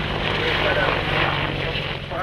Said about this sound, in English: At the moment, we see the helicopter starting